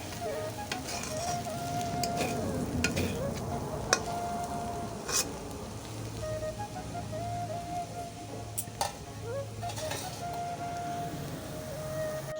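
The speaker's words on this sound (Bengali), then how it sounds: "সকালে সমস্ত কাজগুলো শেষ করে মুড়ি খাওয়ার জন্য আলু ভাজা করলাম।" Potatoes fry in a pan with a continuous sizzle and scattered crackling pops, close and fairly loud, alongside faint clinks and a low background hum.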